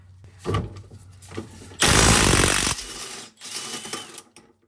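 A ratchet on a 10-inch extension works on the rear sway bar of an Acura RSX Type S, giving short close clicking bursts and one longer, loud whirring run in the middle.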